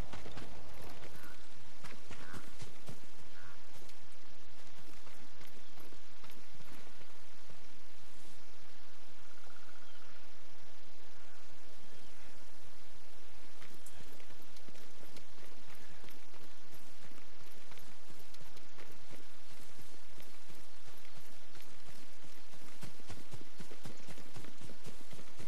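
Horse hooves clip-clop at a steady pace in the video game Ghost of Tsushima, the rhythmic thuds running throughout beneath a constant, dense wash of ambient noise.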